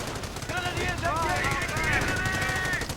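Heavy machine gun fire in a World War II strategy video game battle, rapid rattling bursts throughout with a voice commentating over the gunfire.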